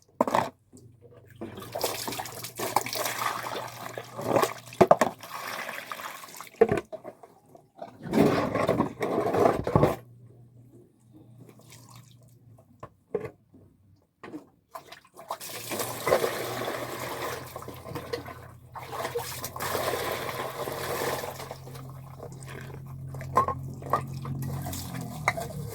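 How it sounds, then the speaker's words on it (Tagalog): Dishes are washed under running water: water gushes in bursts, with clinks and scrapes of plates and utensils, pausing briefly between spells of rinsing, with no talk. "So mahugas tag plato din guys."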